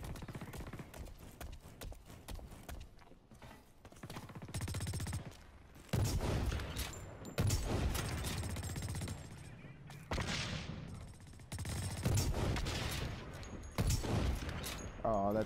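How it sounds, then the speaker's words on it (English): Bolt action rifle fire during an online multiplayer match of BlackLight Retribution on PS4, with separate sharp cracks and bursts from other weapons spread through busy battle noise, under occasional talk. "I really want to try this bolt action rifle"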